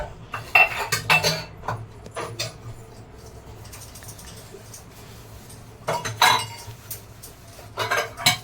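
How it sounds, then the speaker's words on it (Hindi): Dishes, cutlery and pots being washed in a home kitchen, with bursts of metallic clinks and clatters over running-water hiss, busy at the start and again near the end. "बर्तन धोऊंगी"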